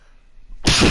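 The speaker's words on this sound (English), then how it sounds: "I gotta sneeze." A sudden loud sneeze bursts out close up after a near-silent moment, a single explosive blast filling the last third.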